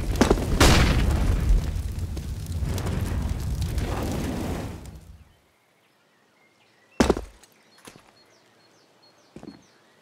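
A flashbang grenade detonates in the Counter-Strike video game, a loud booming burst that rumbles for several seconds before cutting to near silence, followed by a couple of sharp distant impacts.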